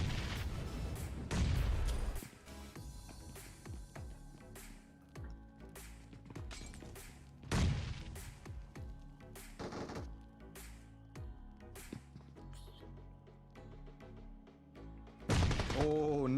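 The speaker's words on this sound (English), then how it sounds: "Oh, nice nade." A grenade goes off in PUBG Mobile, its sharp blast standing out among scattered gunshots and impacts, with further heavy bangs and a later loud burst near the end while voices talk over the action.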